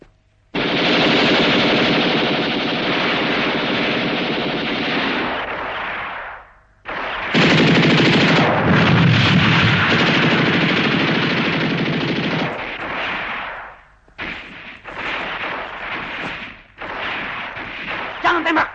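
Heavy machine-gun and rifle fire rattles in long, loud continuous bursts during a battle scene in an Indonesian film about the G30S/PKI events, with brief pauses between volleys.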